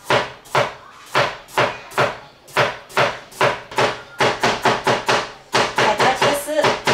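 A knife cuts carrots into slices on a cutting board, each stroke landing as a crisp, close thud. The chops come in a steady rhythm and speed into quicker runs toward the end.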